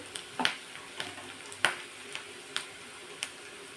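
Onion sautés in a pan for a sprouted matki curry, a quiet soft sizzle beneath a series of sharp, evenly spaced ticks and taps of a spoon stirring against the pan, with no voices.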